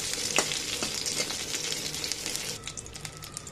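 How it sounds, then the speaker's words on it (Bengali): A steady sizzle of chillies frying in hot mustard oil, with a few crackles and stirring clinks, easing slightly toward the end. "দেখুন মরিচটা ভাজা হয়ে গেছে"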